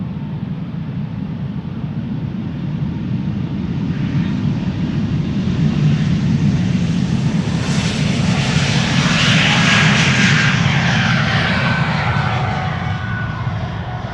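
A fixed-wing airliner powering up for departure at Amsterdam Schiphol Airport, a loud, sustained engine roar that builds gradually toward a peak with a rising whine, then eases slightly, heard close with no talk.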